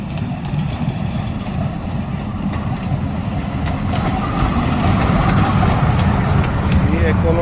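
The Heerak Jayanti Express at the Jambudweep railway junction in Hastinapur, a loud, continuous rumble of a train rolling past with rattling wheels that grows a bit stronger midway, with voices talking over it.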